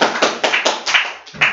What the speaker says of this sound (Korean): 정답. 잘 맞습니다. 박수 주세요.